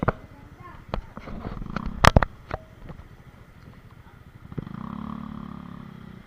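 Motorcycles ride in to park at a private pool property, with engine rumble rising near the end. Clatter and bumps come earlier, and people talk over the sounds.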